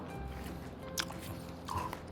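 Someone bites into homemade kimbap filled with crisp paprika and chews it quietly nearby, with a couple of sharp crunchy bites and soft mouth noises in a calm room.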